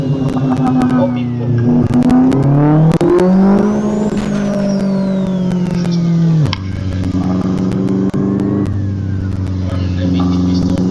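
A turbocharged Chevette 1.6 engine revs loudly and close by, its pitch climbing and falling in repeated surges with a sharp drop partway through, while a voice speaks under the engine roar.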